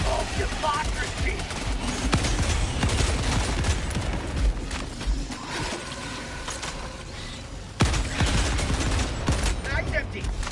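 Sentry turret gunfire in the Helldivers 2 video game, loud sustained bursts of rapid shots rattling almost continuously, with a heavy blast near the end and a voice talking underneath.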